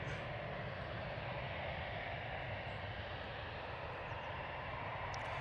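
EasyJet Airbus A320 Classic bound for Barcelona at Manchester Airport, a constant, even jet roar at moderate distance with no change in loudness throughout.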